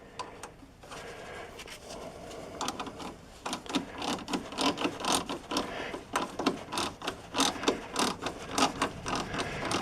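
A ratchet wrench tightens a sway bar link on a Chevy Avalanche truck, producing a steady run of fast, close clicks that grows louder partway through and keeps a regular mechanical rhythm.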